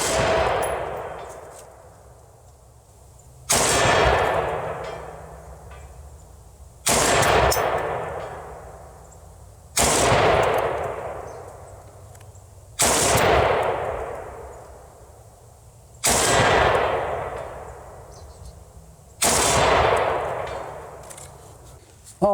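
Suppressed rifle gunshots fire one at a time, seven sharp loud cracks spaced a few seconds apart outdoors, each trailing off in a long fading ring.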